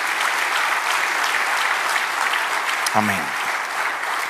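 A church congregation claps steadily and densely throughout, the applause holding an even level while someone briefly speaks over it near the end.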